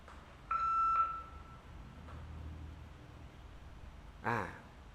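A HiLook IPC-P220-D/W IP camera app sounds a notification: a clear electronic beep tone lasting about half a second, then a second short chirp several seconds later, over a faint room background.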